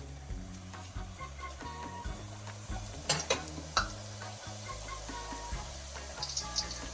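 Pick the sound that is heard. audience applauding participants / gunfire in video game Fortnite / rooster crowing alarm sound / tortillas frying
tortillas frying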